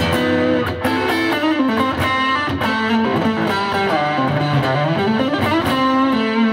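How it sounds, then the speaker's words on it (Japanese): Electric guitar played through a Line 6 HX Stomp with overdrive, delay and reverb switched on together, giving a loud, sustained, distorted tone with repeating echoes and a wide reverb wash throughout. "フットスイッチを踏むとオーバードライブがオンになってディレイとリバーブがオンになる"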